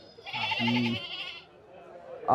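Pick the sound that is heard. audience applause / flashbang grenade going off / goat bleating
goat bleating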